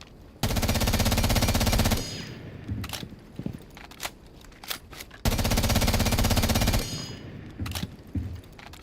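Automatic weapon fire with heavy recoil in a first-person shooter deathmatch, two long loud sustained bursts separated by scattered single shots, clicks and footsteps, no talk.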